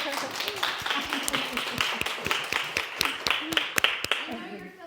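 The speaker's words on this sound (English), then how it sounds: "Can we give a round of applause to our EC" Audience applause for early childhood teachers at a parent education session, a dense run of claps from a crowd lasting several seconds, steady and fairly loud with a voice faintly present beneath.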